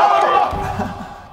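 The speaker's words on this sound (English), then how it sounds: "Then they all cheer." A group of people cheers together in a brief, lively burst of voices that fades out quickly.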